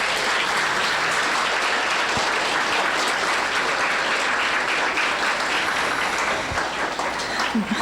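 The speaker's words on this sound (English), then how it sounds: "One more round of applause." Loud, sustained applause from the audience at the NUMU ARTNow awards ceremony, a thick wall of clapping that holds steady throughout with only slight dips near the end.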